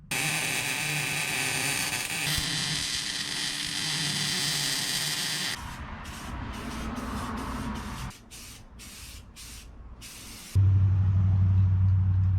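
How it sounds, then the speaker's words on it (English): A welder lays down a metal patch piece on a 1977 Datsun, a steady crackling buzz for several seconds, then short choppy bursts of welding, ending in a low electrical hum. "Just kind of set her right there and a little welder action."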